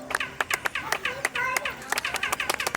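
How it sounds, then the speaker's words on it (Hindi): Handclaps in front of the Mayan Kukulkan pyramid return as chirping, laser-like echoes, a string of sharp claps repeated roughly twice a second, each trailed by a descending twang, with faint voices in the background. "अगर इसके सामने कोई ताली बजाए तो आपको वापस से एक लेजर की तरह आवाज आएगी।"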